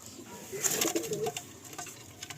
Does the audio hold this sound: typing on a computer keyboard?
no